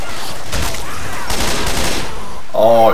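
Weapon gunfire in Left 4 Dead 2, a few loud bursts of shots against zombies, then a short vocal exclamation at the end.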